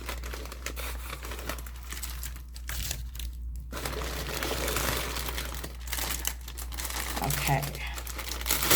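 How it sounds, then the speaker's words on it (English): Plastic packaging from a Temu order crinkles and rustles continuously and close up, with a brief quieter gap midway and a voice speaking once. "Sorry for the crinkles."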